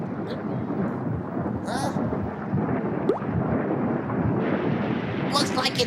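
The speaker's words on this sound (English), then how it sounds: "Looks like it's raining, Jack." A cartoon thunderstorm rumbles with loud, rolling thunder over a steady hiss of rain, punctuated by a few sharp bright cracks, continuous for several seconds.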